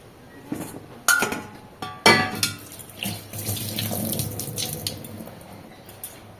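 Tap water running into a kitchen sink while cooking dal, a steady close gush broken by sharp clinks of dishes or pots at the start.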